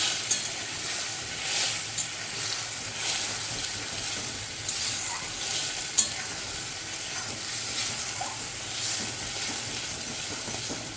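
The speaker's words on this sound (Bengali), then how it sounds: "খুব অল্প জল দিয়ে জাস্ট এটা একটু ভাজা ভাজা করতে হবে" Semolina upma fries with a little water in a pan, a steady sizzle under repeated scraping strokes of a spoon, with occasional sharper knocks against the pan.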